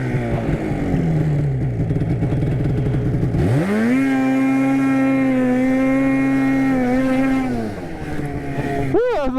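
A Polaris RMK snowmobile with a finger throttle runs close up, its engine droning and then climbing into a loud sustained high rev that holds steady before dropping back and revving briefly again.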